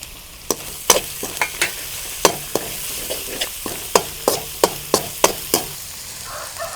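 Onions and dried red chillies fry in a pan for a village-style rabbit pepper fry, a close sizzle punctuated by a quick series of sharp spatula strikes and scrapes in an irregular stirring rhythm.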